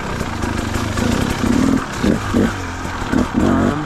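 A 2017 KTM 300 dirt bike engine runs close by on a wooded trail, a raspy two-stroke drone with several sharp throttle blips rising and falling over a constant loud rumble.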